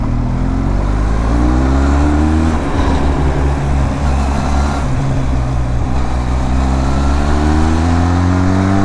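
Benelli TRK 502X adventure motorcycle riding over gravel patches, a loud steady engine drone with rising and falling pitch as the throttle varies, heard close alongside wind noise.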